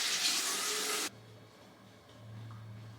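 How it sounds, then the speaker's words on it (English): Water runs loudly from a tap for about a second as a face is washed, then cuts off abruptly, leaving faint dripping and a low hum. "I'm gonna have to wash it with water."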